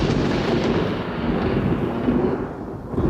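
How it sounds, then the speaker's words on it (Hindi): Thunder rolling as a deep, heavy rumble that swells and fades unevenly over a few seconds, loud and continuous without sharp cracks. "बादल गरजना"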